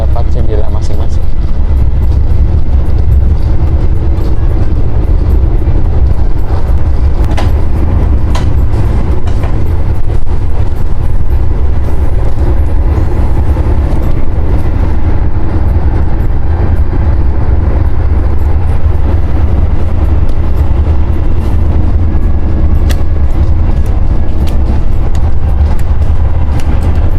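KA Taksaka New Generation executive class train running at night between Purwokerto and Yogyakarta, a steady low interior rumble with rail noise throughout, people talking over it.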